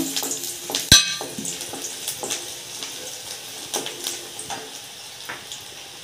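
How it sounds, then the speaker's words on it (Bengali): Chopped onion fries with garlic and a dried red chili in a pan, a steady close sizzle punctuated by a sharp clink of the utensil and repeated scraping stirs. "পেঁয়াজের কুচিটা কিছুক্ষণ নাড়াচাড়ার পরে আমি রসুনটা দিয়ে দিলাম, একটা শুকনো লঙ্কা দিলাম, এইভাবে নাড়াচাড়া করব"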